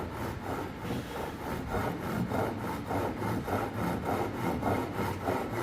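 Steady back-and-forth strokes of a hand saw cutting a kerf into a two-by-four wooden stud, rhythmic and close, with no voices.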